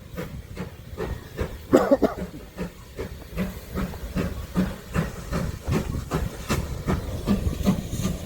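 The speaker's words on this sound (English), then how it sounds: "just arriving into Blue Anchor now is the steam engine that's running today" A steam locomotive, number 9351, pulls into Blue Anchor station on the West Somerset Railway, with loud steady hissing steam, rhythmic chuffing and the clatter of carriages rolling past close by.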